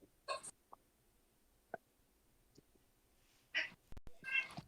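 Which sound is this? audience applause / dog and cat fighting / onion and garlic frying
dog and cat fighting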